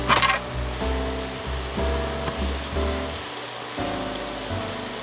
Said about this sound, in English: we've been sauteing our mushrooms and onions and butter and olive oil for about 8 minutes